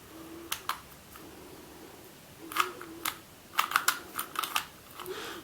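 A Rubik's Touch Cube speed cube is turned in quick bursts of crisp plastic clicks and snaps, close by, with short pauses between twists.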